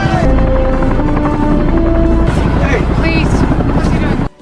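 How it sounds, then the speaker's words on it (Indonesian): A helicopter in a movie scene drones with a loud, steady rotor and engine hum filling the whole stretch, then cuts off abruptly near the end. "mereka pun sangat senang setelah melihat sebuah helikopter datang"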